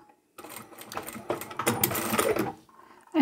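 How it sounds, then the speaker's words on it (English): A sewing machine backstitches a two-piece fabric glasses case, a close continuous rattling whir of a few seconds that starts abruptly and stops just as suddenly. "And I'll backstitch here."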